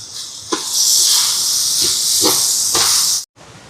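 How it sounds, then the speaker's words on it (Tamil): Curry masala powder sizzles in hot oil in a pan, a loud continuous frying hiss with a few soft stirring knocks. It cuts off abruptly near the end. "இந்த குழம்பு குழம்பு தூளை இந்த எண்ணெயிலேயே இப்படி இருக்கா வதக்கி விடுவோம்"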